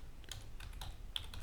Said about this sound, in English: you have to type and press enter